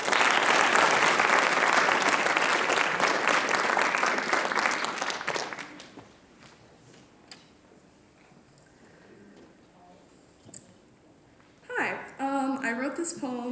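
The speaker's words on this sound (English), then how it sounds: "Let's give her a round of applause." Audience applause for a student writer at a school writers expo, a dense burst of clapping from a crowd for about six seconds that fades out before a voice speaks near the end.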